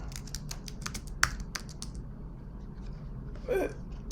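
Quick clicking keystrokes on a computer keyboard, entering text into an online class discussion thread, a scattered run of light taps close by with a brief louder rustle near the end.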